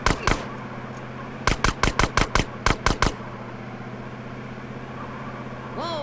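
Machine pistol fire in Grand Theft Auto San Andreas cracks out in two sharp pairs of shots followed by a rapid burst of about eight, close and loud over a low engine hum.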